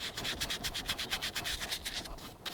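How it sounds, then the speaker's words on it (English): A towel rubs cleaner into a car seat in quick circular strokes, making a rhythmic scrubbing swish that repeats steadily and close up. "What I want to do is rub it in, circular motions, let it sit."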